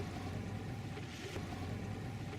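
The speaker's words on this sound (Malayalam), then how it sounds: "നേരത്തെ കണ്ടതിന്റെ എതിർഭാഗത്തുള്ള ജലഗ്രാമങ്ങളിലേക്കാണ് ബോട്ട് നീങ്ങുന്നത്" A boat glides toward stilt-house water villages in Brunei, giving a steady low engine rumble and broad water wash, fairly quiet and continuous with no voices.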